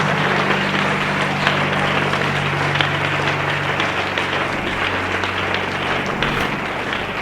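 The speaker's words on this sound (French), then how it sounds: "Acclamons encore très fort pour Jésus" An audience applauds and cheers for Jesus at a Christian faith and miracle broadcast, a dense continuous wash of clapping with a low hum beneath, steady throughout and tapering slightly near the end.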